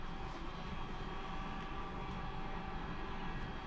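Steady broadband whir of an air ionizer running indoors, a constant airy hum with no breaks, moderately quiet and alone with no talking.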